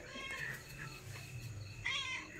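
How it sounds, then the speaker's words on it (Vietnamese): A domestic cat meows a few times in a home where a dog and cat live together, with a clear call near the start and a louder one toward the end over low background hum. "Mèo."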